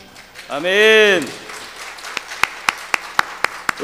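After a brief rising and falling voice, a church congregation at a Sunday worship service claps together in steady unison, about four sharp, evenly spaced claps per second, moderately loud.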